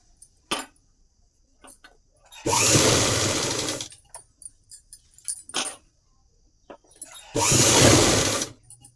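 A sewing machine stitches a body petticoat frock for a 7 to 8 year old girl in two loud, close bursts of rapid whirring stitching, separated by quieter clicks and fabric-handling noises.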